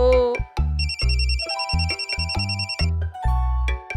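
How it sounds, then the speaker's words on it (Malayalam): A telephone rings loudly and close in repeated bursts of bright electronic tones, with low musical notes playing underneath. "ആരാ ഈ നേരത്ത് എന്റെ ഫോണിൽ വിളിച്ച് മാഡത്തിനെ ഡിസ്റ്റർബ് ചെയ്യുന്നത്?"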